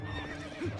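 Epona, the horse from Zelda: Twilight Princess, whinnies once in a short game sound: a rising and falling neigh near the end with hoof clatter, over steady game music.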